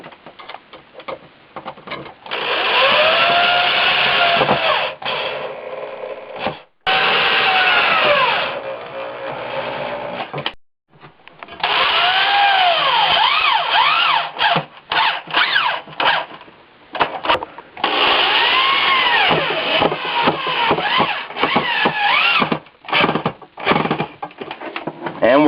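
A power driver sinks screws into wall anchors to mount a water filter, a series of loud whirring bursts with pitch sweeps, separated by short pauses and clicks.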